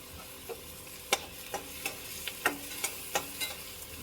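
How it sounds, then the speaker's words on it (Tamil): Onions sauté in a pan under a faint, soft sizzle, with about nine sharp spoon clacks against the pan at irregular intervals. "நல்லா வதக்கிக்கலாம். கலர் மாறுற வரைக்கும் வதக்கணும்."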